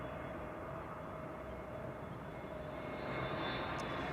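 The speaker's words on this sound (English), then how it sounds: "Transavia A321neo arriving from Palma de Mallorca in the foreground over here" Transavia Airbus A321neo airliner arriving at Amsterdam Schiphol, a steady broadband engine roar heard from a distance, swelling slightly louder toward the end.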